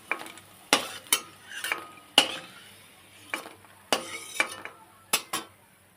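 Fried bitter gourd pieces are stirred and lifted out of a hot frying pan, each scoop a sharp metallic scrape or clink over a faint sizzle, repeating about a dozen times at an uneven pace.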